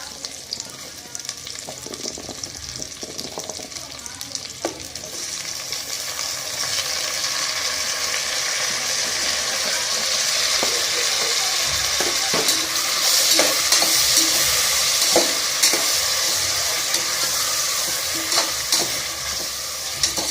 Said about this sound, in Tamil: லைட்டா ஒரு 5 நிமிஷம் வதக்கிக்கலாம்.